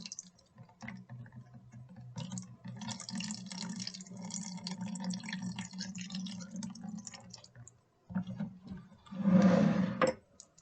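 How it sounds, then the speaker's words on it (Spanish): Water leaks out of holes in a plastic bottle in a classroom demonstration of Pascal's law, a faint steady trickling and dripping that runs for several seconds, pauses, then returns briefly as a louder splashing gush. "lo que tiene que pasar es que el agua empiece a salir por los agujeros"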